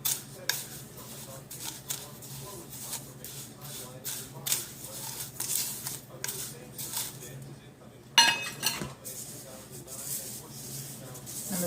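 Epsom salts are pressed and scraped through a fine metal strainer into a bowl, giving close, irregular metallic clinks, taps and gritty scrapes, with a person talking at times.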